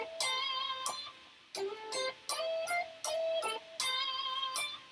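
An electric guitar plays a short melodic lead line, notes sliding between pitches with phrased pauses, clear and unaccompanied.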